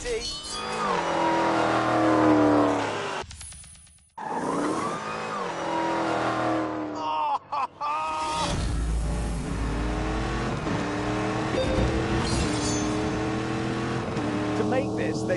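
A modified Dodge Hellcat in The Grand Tour video game, driven through a city: a loud, continuous engine roar that revs up and down through several gear changes over about fifteen seconds.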